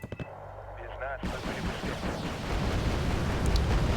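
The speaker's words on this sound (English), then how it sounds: "that's a lot of autocannon fire. Or machine gun fire even" Autocannon and machine gun fire in the Wargame Red Dragon video game, a loud rolling barrage of rapid shots and booms building after a brief quieter start, with a voice speaking over part of it.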